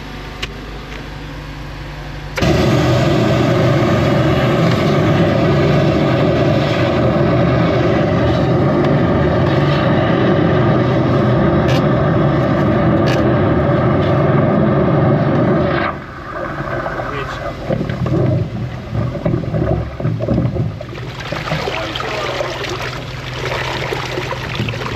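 A drain jetting machine runs during work on a drain blocked by tree roots, a loud, continuous engine-and-water roar that starts abruptly and holds steady, shifting in tone partway through, with brief talk.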